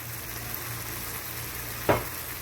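Schezwan chutney sauce with sugar, salt, black pepper and soy sauce frying in a pan, a steady close sizzle with a single sharp clink of a utensil near the end.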